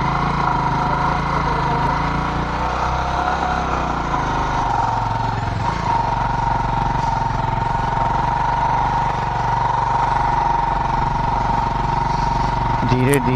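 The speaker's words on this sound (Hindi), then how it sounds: "धीरे धीरे फर्स्ट गियर में ही जाना पड़ता है, ऐसे करके तो निकल जाएंगे।" A Bajaj Avenger Cruise 220 motorcycle crawls through desert sand in first gear, its engine droning steadily and loudly close by for the whole stretch, with a rider speaking over the noise.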